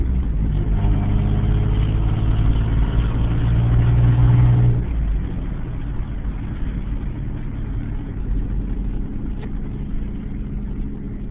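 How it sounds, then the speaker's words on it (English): A 1989 Toyota 4Runner 4x4 with a V6 and five-speed drives along, its loud exhaust giving a steady low engine drone that rises in a strong tonal pull, then eases to a quieter rumble for the rest. "it's not the quietest truck. It's got a good solid exhaust on it"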